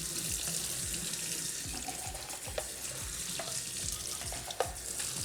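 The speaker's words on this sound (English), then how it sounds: "I suppose I could have done this before the stream so you didn't have to hear the sink" Water runs from a kitchen tap into a sink while beans are rinsed in a colander, a steady splashing hiss with small clinks and knocks, close and fairly quiet, with no talking.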